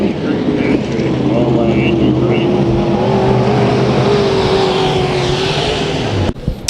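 Modified race cars roar around Santa Maria Speedway in a final heat race, their engines droning loudly and steadily with rising and falling pitch, while an announcer talks over the noise.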